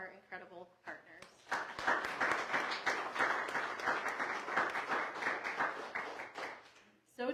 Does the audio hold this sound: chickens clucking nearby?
no